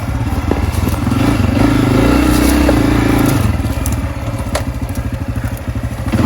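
A 2022 Honda CRF250F dirt bike ridden on a tight trail, its single-cylinder engine loud and close, revving and then falling to a choppy, pulsing idle-like putter, with faint scrapes and clatter from the ground.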